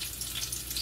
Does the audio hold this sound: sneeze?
no